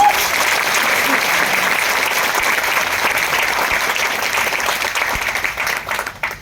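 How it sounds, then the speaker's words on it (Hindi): Loud applause from an audience at a class or seminar, a thick continuous roar of clapping that holds steady and then thins out in the final second. "जोरदार तालियां हो जाए आप लोगों को।"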